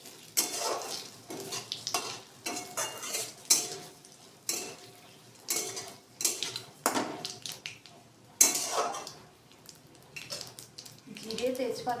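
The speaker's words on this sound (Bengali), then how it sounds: "দুটো তেজপাতা, জিরে আর শুকনো লঙ্কা ফোড়নে দিয়ে মশলাটা একটু গরম করতে দেবো।" Bay leaves, cumin and dry red chillies crackle and sizzle in hot oil, with bursts of spatula stirring and pan clatter coming in uneven waves. A voice is heard briefly.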